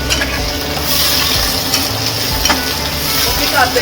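Two large chopped onions sizzle steadily in a hot pan for a chickpea and bottle gourd curry, a close, continuous crackle with occasional stirring scrapes.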